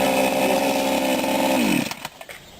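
A Sadko GCS 510E petrol chainsaw, started with the choke pulled, roars loudly and steadily up close, then the engine cuts out and winds down into a few clattering knocks.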